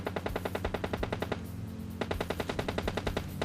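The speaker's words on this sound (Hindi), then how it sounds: "इस तरफ से गनशॉट की आवाज़ आई थी" Rapid bursts of automatic gunfire from a video game, rattling steadily with a brief pause midway before resuming, loud and close.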